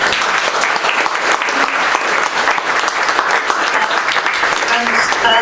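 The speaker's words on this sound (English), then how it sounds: "So let's give them a big round of applause." An audience applauds speakers after a question-and-answer session, loud sustained clapping from a full room, even and unbroken for the whole stretch.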